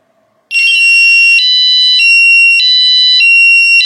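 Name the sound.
Nash Siren R3 bite alarm anti-theft siren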